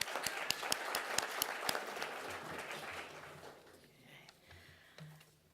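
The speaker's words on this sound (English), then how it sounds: "I'd like to give a round of applause to the sponsors" An audience applauding the sponsors at an arts center summer series talk, a burst of clapping with a few sharp claps up front, fading out over several seconds into a quiet room, heard at a distance.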